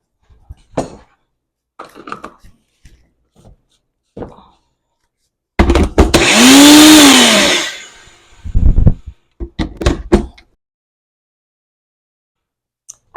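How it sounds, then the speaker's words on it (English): A small blender whirs loudly for about two seconds, likely chopping cilantro, its motor pitch sweeping up and down, surrounded by quiet kitchen clatter and handling sounds. "I tend to use this little blender for small batches."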